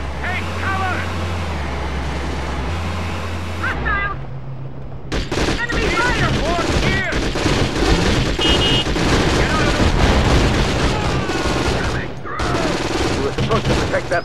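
Enemy gunfire in the PS2 war game Conflict: Global Terror, with dense bursts of shots and loud clattering combat noise. A low engine-like drone sits under shouted voices, then the firing runs nearly continuously.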